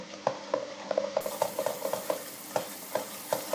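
Tunisian molokhia fries in a pot over medium heat, a soft sizzle running under repeated scraping spoon strokes against the pot at a steady, unhurried rhythm.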